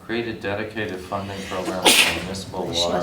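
A single sharp sneeze bursts out midway through ongoing conversation at a town council meeting, louder than the surrounding voices.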